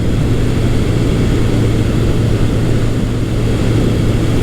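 A Yamaha FJ1200 motorcycle on a test ride sends out a loud, constant engine drone with heavy low rumble and wind roar, unbroken for the whole stretch.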